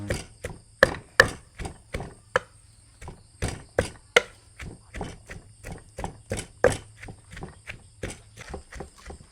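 Garlic and shallots pounded in a mortar for a Lao-Thai chili dip, a steady run of sharp, close knocks, roughly two or three per second, continuing alone throughout.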